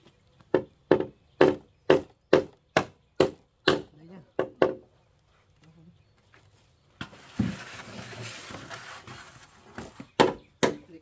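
Sharp, evenly spaced knife chops strike bamboo, about a dozen hard knocks, then a pause and a burst of rustling before a few more chops.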